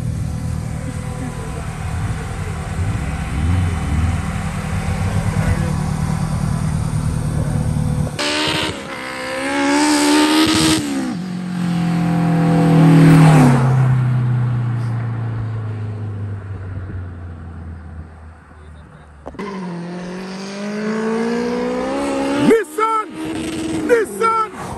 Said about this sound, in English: It's pure nice, loud muffler.